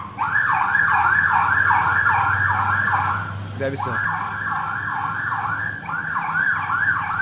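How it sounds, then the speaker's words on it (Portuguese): A night watchman's siren passing down a street, a loud rapid warbling wail repeating steadily with a short break midway, while someone speaks briefly over it. "Como o guarda noturno se sente ao passar pela sua rua tocando a sirene à noite?"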